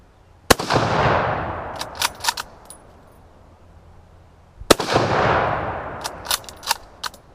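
Two loud, sharp rifle shots from a sporterized Mosin Nagant Type 53, spaced about four seconds apart outdoors, each followed by a long echoing rumble and metallic clicks of the bolt being worked.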